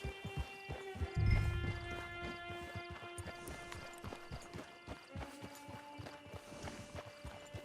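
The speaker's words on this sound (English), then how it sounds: "Hit your horse." Horse hooves trot in Red Dead Online, a quick, fairly faint clip-clop rhythm that carries on steadily with a brief louder thump near the start and no talking.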